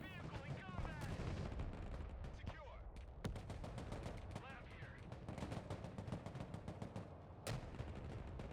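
Heavy gunfire in the war strategy game Broken Arrow during an airfield raid, dense bursts of machine-gun and rifle shots with booming impacts, a voice speaking over the continuous battle.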